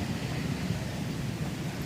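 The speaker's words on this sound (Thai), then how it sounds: "บรรยากาศลมพัด" Wind blows outdoors at Phra That Phanom around midday, a steady, low buffeting rumble across the microphone with no voices.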